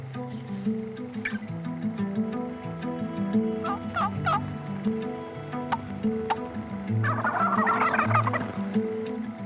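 Wild turkeys gobble repeatedly at a moderate distance, their rattling calls rising in bursts over clucking and outdoor ambience.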